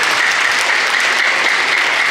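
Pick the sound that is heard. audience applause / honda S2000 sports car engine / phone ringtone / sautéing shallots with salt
audience applause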